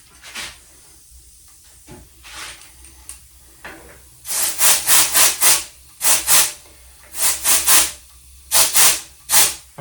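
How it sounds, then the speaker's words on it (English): A tubeless bike tire seating its bead: faint scattered hisses give way to loud clusters of sharp pulsing air bursts in quick groups, close and without talk. "Those sounds are the tire seating."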